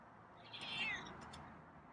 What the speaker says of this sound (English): has very quiet meows tonight